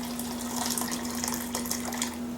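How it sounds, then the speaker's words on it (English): Bean cooking water pours into a pot of black bean sauce in a steady trickling stream, a constant hum running beneath the splashing. "you have to put some water, some beans water in it"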